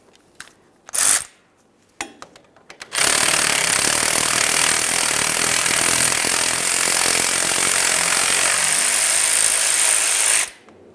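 A power tool runs loud and steady for about seven and a half seconds on a 10mm bolt holding the ABS sensor at the rear axle of a 2003-2011 Mercury Grand Marquis, preceded by a few short bursts.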